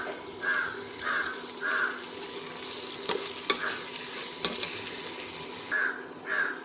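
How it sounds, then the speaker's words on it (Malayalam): Chopped green chillies with salt are stirred in a pan on the stove, with a continuous soft sizzle and intermittent scraping of the spoon, while crows caw repeatedly in the background. "കുറച്ച് ഉപ്പുപൊടി കൂടിയിട്ട് വഴറ്റി കൊടുക്കാം."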